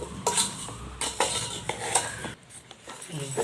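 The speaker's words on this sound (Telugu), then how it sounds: "ఇట్లా కలుపుకొని ఒక డబ్బాలో ప్లాస్టిక్ డబ్బాలో ఎత్తి పెట్టుకోవాలి" Homemade amla (Indian gooseberry) pickle in oil is stirred and scooped into a plastic container, giving close, irregular clinks and scrapes of a utensil against the container with no talking.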